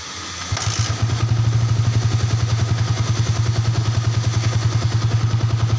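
A Yamaha Vixion motorcycle with a suspected failing voltage regulator starts after a short quiet moment and settles into a steady, rhythmic idle. The engine thumps loud and close, running alone with no talk.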